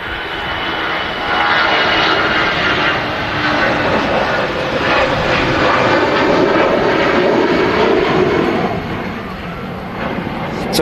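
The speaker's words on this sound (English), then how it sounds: "now rolling is an EasyJet, but that's going to be followed most likely by a TUI Dreamliner" An EasyJet airliner rolling for takeoff at Manchester Airport, its engines building into a broad, loud roar that holds steady before easing slightly near the end.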